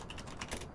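Typing on a computer keyboard to enter payment information, a short run of soft, close key clicks in quick irregular rhythm with no talk.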